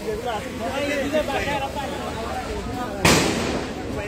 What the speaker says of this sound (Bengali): সিলেটে মাউন্ট এডোরা হসপিটালের সামনে যে পুলিশের সাউন্ড গ্রেনেড চলছে